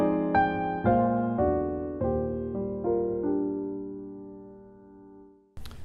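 Reharmonized chord progression on a sustained, piano-like instrument with stepwise bass movement: about eight chords struck in a steady rhythm, each ringing and decaying, the last held long and fading, followed by a brief sharp noise at the end.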